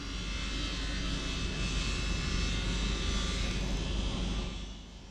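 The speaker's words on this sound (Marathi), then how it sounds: "हे पाहू शकता एरोप्लेन किती जवळ आहे. पहा आर्मीचा आहे" An army airplane flies low overhead at Leh airport in Ladakh, its engine roar loud and sustained across the whole stretch before easing slightly at the end.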